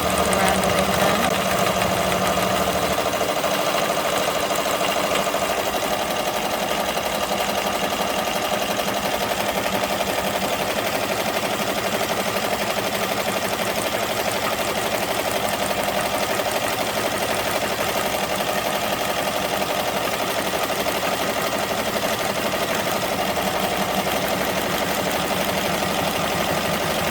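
A home embroidery machine sews a red satin stitch around a ladybug design on a T-shirt, a steady fast mechanical whir with rapid needle chatter running continuously and fairly loud, with no talking.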